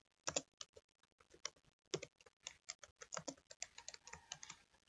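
Fingers typing on a computer keyboard, with quick, uneven bursts of crisp key clicks and brief pauses between them, close and fairly quiet, with no talking.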